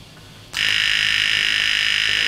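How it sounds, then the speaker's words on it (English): Transformer in a home-built cartoon stage lighting rig buzzing loudly under load, a harsh, steady high-pitched hum that snaps on suddenly after half a second of quiet and holds constant. "as you can probably hear, that transformer is buzzing like crazy"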